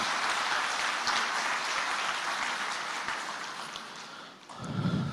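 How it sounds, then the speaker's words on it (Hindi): An audience at a spiritual gathering in Nashik breaks into sustained applause, a dense, loud wash of clapping that tapers off near the end before a voice resumes. "एक बार सब एक दूसरे के लिए तालियों की गड़गड़ाहट कर रहे हैं।"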